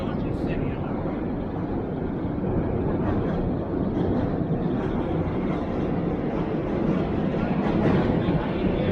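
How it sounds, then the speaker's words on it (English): A low, continuous rumble from a passing train in New York City, heard from a midtown cruise boat, steady and moderately loud throughout, with voices murmuring faintly in the background. "I think I hear a train now."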